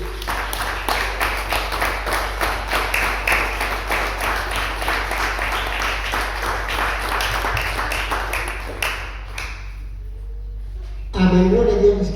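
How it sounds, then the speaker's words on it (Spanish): Sustained clapping from a church congregation applauding a child, a dense steady patter of many hands lasting about nine seconds before stopping abruptly, followed by a brief burst of other sound near the end. "Déselo fuerte el aplauso al niño."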